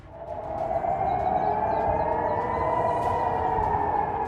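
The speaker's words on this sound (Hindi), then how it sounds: "पूरे इलाके में इमरजेंसी अलार्म और सायरन की आवाज गूंजनी शुरू हो गई" A steady, sustained wailing emergency siren tone holds at a loud, even level throughout, during a wartime alert, with a rumbling background underneath and no voices.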